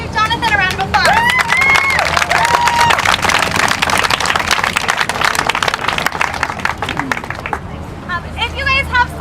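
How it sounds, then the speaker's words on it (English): A rally crowd outside the Oregon State Capitol claps and cheers in a dense, steady burst of applause mixed with shouting voices. The noise fades near the end, and some individual voices stay audible. "Let's give Jonathan a round of applause."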